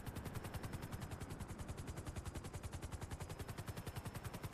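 Rapid automatic gunfire in a video game set around a helicopter, a steady stream of evenly spaced shots running throughout at a fairly quiet level with no talking.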